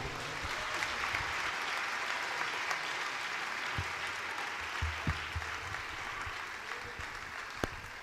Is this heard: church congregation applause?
yes